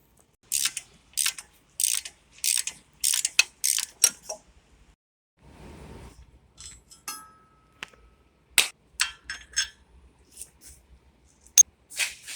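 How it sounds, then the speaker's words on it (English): An 18mm socket on a 1/2 inch breaker bar turns a bolt while sway bar links are fitted on a 2007-2018 Jeep JK, making close, crisp bursts of ratcheting clicks in irregular runs with quiet gaps between them. "I'm going to be using an 18mm socket on the end of my 1/2 inch breaker bar"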